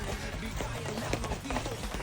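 A knife cuts through a head of napa cabbage (pechay Baguio) on a board outdoors, a few crunchy, crisp chops in quick succession over a low background rumble.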